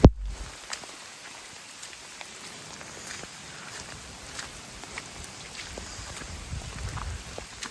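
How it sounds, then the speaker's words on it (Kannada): Steady monsoon rain falls during a trek on Harihar Fort, a faint, continuous hiss with scattered drop patter and a soft thud at the start, with no voices. "ಮಳೆ ಮಾತ್ರ ಬಿಡ್ತಾನೆ ಇದೆ ಕಂಟಿನ್ಯೂಸ್ ಆಗಿ"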